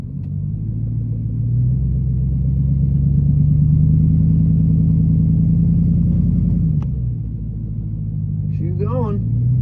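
Truck engine straining loud and close as it pushes a car backwards, revving up into a rising drone while the wheels spin, then dropping off with a clunk as a voice speaks over it.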